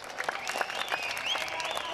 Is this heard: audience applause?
yes